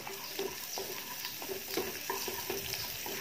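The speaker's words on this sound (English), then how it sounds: "And stir well" Chopped garlic and ginger stirred and sizzling in a hot pan, with a steady frying hiss broken by repeated scraping strokes about every half second, close and fairly loud, with no talking.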